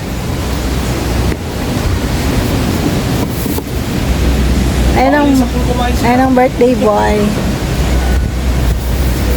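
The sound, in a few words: strong wind blowing at outdoor birthday barbecue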